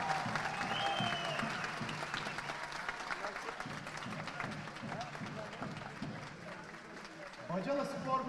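Steady crowd applause at an outdoor village football league cup ceremony, sustained clapping from many hands with a voice speaking over it.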